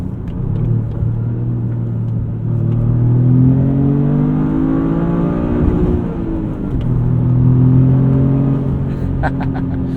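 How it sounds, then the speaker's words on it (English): A 2025 Toyota GR Corolla turbo engine revs up in a rising whir, dips briefly, then climbs again toward the limiter, heard steadily from inside the car. "we'll slow down, we'll try the rev limiter"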